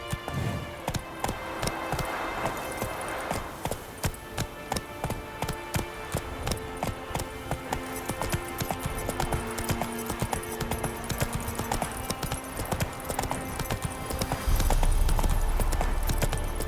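The horse Roach gallops in The Witcher 3: Wild Hunt, its hooves pounding in a fast, steady rhythm that runs the whole way, with a low rumbling swell near the end.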